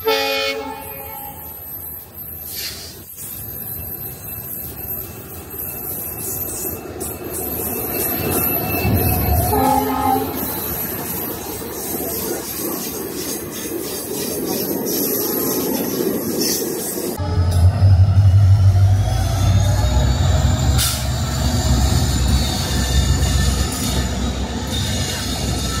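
Trains at the Raika Bagh Palace Junction in Rajasthan, with the Runicha Express halted: steady rail rumble and rolling wagons throughout, a horn toot near the middle, and a louder, closer low rumble in the final stretch.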